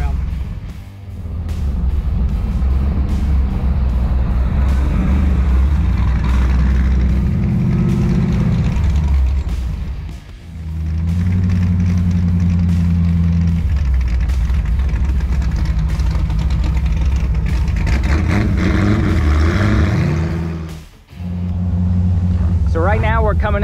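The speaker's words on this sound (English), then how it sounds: "We're gonna go do some driving around with Scott." A car driving around, following a hot rod sedan: a steady, loud low engine rumble with shifting tones, dipping briefly twice as if between gears, with voices talking over the drive.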